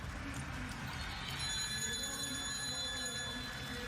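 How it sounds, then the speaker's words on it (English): Last-lap bell ringing at a speed skating world championship race in Hamar, a steady metallic ringing from about midway, sustained over crowd noise and arena rumble. "she will be coming up towards the bell for the last lap"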